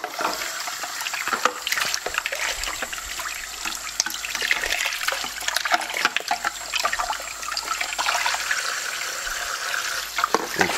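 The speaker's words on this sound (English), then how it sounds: "It's just a rinsing process with everything until it comes down to the screen or the sieve" Running water splashes and trickles as parts of an Omega Sana juicer are rinsed in a sink, with irregular clatter and spatter over a steady flow and no talk.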